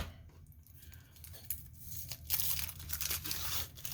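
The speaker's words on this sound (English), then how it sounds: "And then I take that first layer of onion off there" The papery outer layer of a sweet Vidalia onion is peeled off by hand, heard as soft close crinkling and tearing that grows a little louder toward the end, quiet overall.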